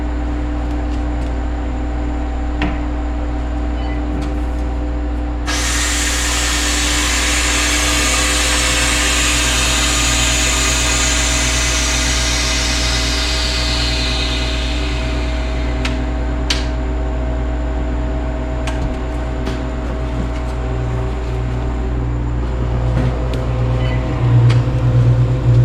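A Harvest Right freeze dryer running with chili and ground beef inside: a constant low mechanical hum and pump drone. A loud broadband hiss rises abruptly partway through, fades slowly, and the steady hum continues alone.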